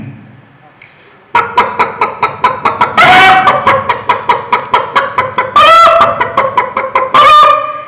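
A voice mimics a hen's clucking during a mimicry performance at a state school arts festival, with quick, evenly spaced clucks in a steady run, rising into a few louder drawn-out squawks.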